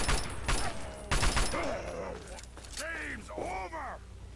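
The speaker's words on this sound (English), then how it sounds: "Switch over to the assault rifle. Blow a hole in mutants." Bursts of assault rifle gunfire in the video game Fallout 3, several rapid shots early on under someone talking, with game creature groans and mechanical noises.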